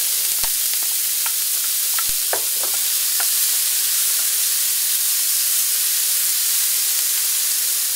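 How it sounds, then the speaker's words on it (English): Chopped onions frying in olive oil in a hot skillet give a steady, close broadband sizzle throughout, with a few brief clicks and taps early on. "I put a little olive oil in our hot skillet"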